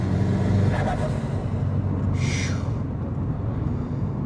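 A Subaru GD STi with a 20G turbo, Cobb front-mount intercooler and TiAL external wastegate driving, heard from inside as a steady low engine rumble with a brief higher whoosh midway.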